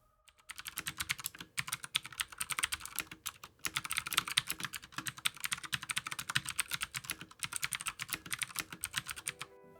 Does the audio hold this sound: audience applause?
no